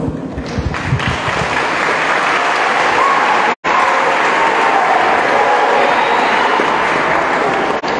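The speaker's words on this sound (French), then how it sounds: "J'ai envie de demander qu'on applaudisse pour elle" Sustained applause from a congregation at an evening Christian praise service, loud and dense, clapping throughout with a brief cut partway, crowd murmur mixed in.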